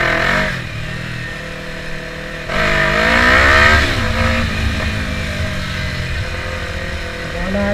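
A Yamaha R3 sport motorcycle's engine revs up sharply, a rising, strained mid-pitched roar that holds high before easing back to a steady loud drone, close by.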